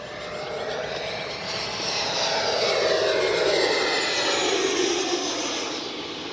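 An E-flite Viper 90mm electric ducted-fan RC jet flies past, its steady whooshing turbine whine swelling louder as it nears, then easing off slightly, with no voices.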